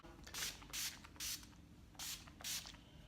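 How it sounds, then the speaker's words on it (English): Makeup setting spray hisses out in five short, even bursts, each lasting about a quarter second, close and fairly soft against a quiet room. "normally you put setting spray on just at the end"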